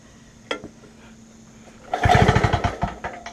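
A vintage Homelite generator engine coughs once, then briefly fires into a rapid, uneven sputtering run, close and fairly loud, before fading near the end.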